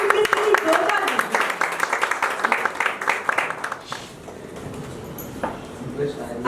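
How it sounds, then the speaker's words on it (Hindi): An audience at an International Sindhi Organisation celebration gives loud applause that lasts about four seconds and then fades, while someone speaks over part of it. "तो मैं चाहूंगी कि एक बार जोरदार तालियां हमारी टीम के लिए जोरदार दीजिए।"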